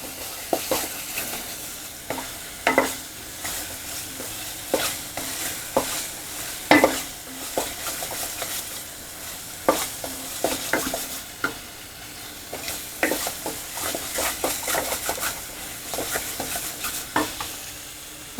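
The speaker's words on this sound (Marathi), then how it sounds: "अर्धा मिनिट परतूया." Masala gravy for Pune-style matar usal sautés in a pan, a low steady sizzle broken by frequent scraping stirs of a spoon against the metal, close and fairly loud, with no talking.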